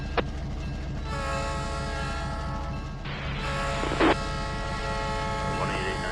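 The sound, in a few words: locomotive in Trainz 19 video game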